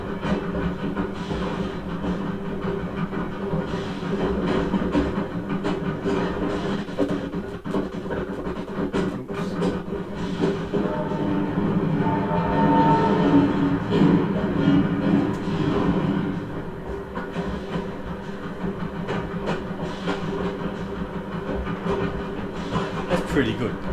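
Steady low rumble and vibration of a train ride simulator seat, with faint rhythmic clatter running continuously throughout, moderately loud and close, with brief murmurs of voices over it.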